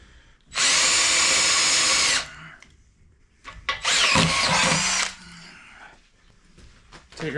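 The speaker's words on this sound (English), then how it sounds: "Take our handy deburring tool." A power drill fitted with a deburring bit whirs in two loud bursts of about a second and a half each, with quiet handling noises in between, during work on a BSA 441 Victor motorcycle tail light.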